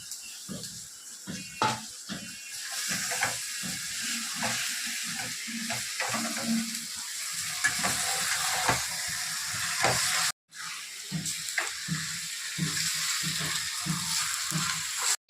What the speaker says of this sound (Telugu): మసాలాలు చికెన్ వేసేస్తున్నా.